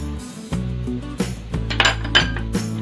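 A metal spoon stirs chopped tomatoes in a pan for Bengali katla fish kofta curry, with several close, sharp clinks and scrapes against the pan over a low cooking hum. No one speaks.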